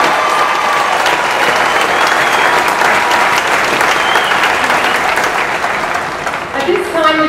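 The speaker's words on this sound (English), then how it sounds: "Please join me in a round of applause for our graduates." Loud, dense applause from a large audience at a San Diego City College graduation ceremony, steady and sustained throughout, with crowd noise and a few voices rising near the end.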